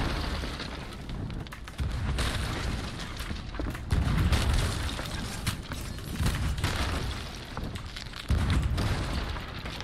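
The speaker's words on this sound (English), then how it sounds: "Cannon them, if you can, Harrison." Ship cannon fire and explosions in the Sea of Thieves video game boom repeatedly in dense, overlapping blasts, loud and continuous over a rumbling battle din.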